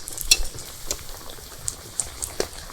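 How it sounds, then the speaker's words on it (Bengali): Vermicelli bird's nest snacks fry in hot oil, two at a time, with a soft steady bubbling and a few sharp clinks of a utensil against the pan, close and moderately quiet. "এবারে আমি এই পাখির বাসাগুলো তেলের মধ্যে দিয়ে ভেজে নেব।"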